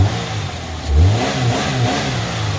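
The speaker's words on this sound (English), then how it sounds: "You got to give it some throttle." A Saturn Ion car engine revs up sharply, climbing and settling back in a couple of throttle blips over a low running rumble.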